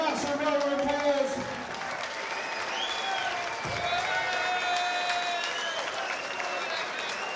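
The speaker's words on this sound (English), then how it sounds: "Please give these warriors a massive round of applause." A crowd applauds and cheers at a bare knuckle boxing event, clapping and shouts mixed with whistles and voices, and an announcer speaks over the noise.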